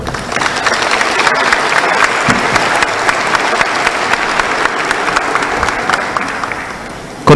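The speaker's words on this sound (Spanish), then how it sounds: "para el que pido un fuerte aplauso." An audience at an electoral reform forum gives a loud, sustained round of applause for a federal deputy, many hands clapping densely and evenly throughout.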